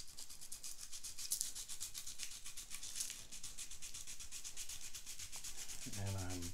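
Guitar part rubbed back and forth on coarse 80-grit sandpaper, a steady rhythmic scratchy rasp repeated in quick even strokes, close and fairly quiet, ending with a brief low knock.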